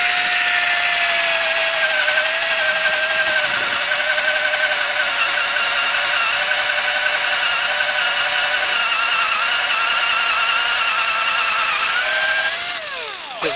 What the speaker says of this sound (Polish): No, mamy wiertarkę.